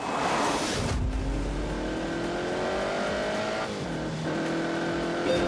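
Pedigree Italian classic car on an open road in The Grand Tour video game, engine revving loudly and climbing through gears with a shift partway through, steady and close.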